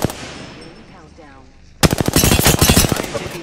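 Video game gunfire erupts as rapid automatic bursts, loud and close, after nearly two seconds of quieter electronic game ambience, with dense repeated shots continuing to the end.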